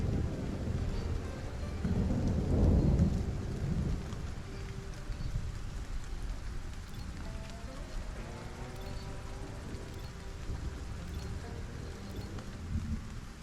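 Thunderstorm rain in the survival video game Stranded: Alien Dawn: a steady wash of rainfall with a deep rumble of thunder swelling early on, then fading back to a constant hiss of rain.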